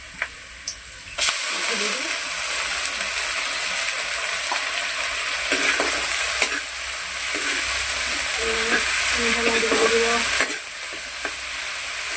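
A steady, loud sizzle of ginger-garlic spice paste frying in hot oil for duck meat, with scraping and stirring strokes throughout and a voice briefly murmuring in the background.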